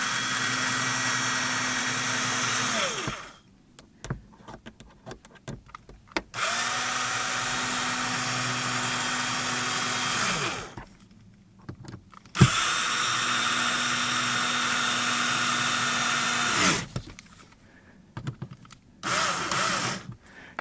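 Screws on a Chevrolet Cruze sun visor mirror cover are run back in with a T15 power driver, three long steady whirring bursts of a few seconds each, close and loud, with short pauses between and no talk.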